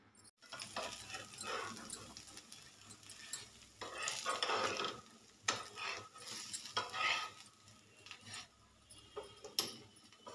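Pesarattu, a green gram batter crepe, cooking on a hot pan, with soft sizzling and intermittent scraping and stirring clatter, fairly quiet and close with no talk.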